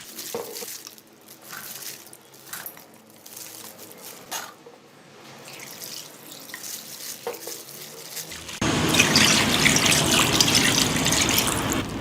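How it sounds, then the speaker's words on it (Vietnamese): Water pours and splashes over sliced pig ears being rinsed in cooled boiled water, a steady close wash that grows louder and denser toward the end, with handling clatter earlier. "Và mình sẽ rửa lại bằng nước đun sôi để nguội."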